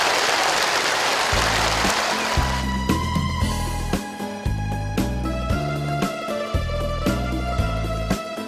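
Audience at a Vietnamese Tết comedy and music liveshow applauds loudly in a dense burst for about two seconds, then the clapping gives way to music with a steady, punchy drumbeat.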